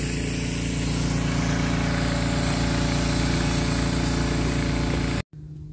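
A pressure washer's engine runs steadily while a house is power washed, a loud, close, even drone with a constant hum, cutting out abruptly near the end before a quieter rumble returns.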